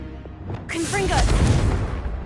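A Confringo fire spell is cast in Hogwarts Legacy, with a voiced incantation, a whooshing burst and a rumbling boom that carries on beneath it, loud and close.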